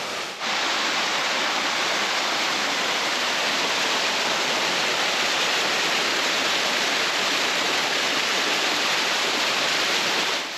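A waterfall in Sumatra roars in a dense, unbroken wash of white noise, loud and close, steady throughout with no voices.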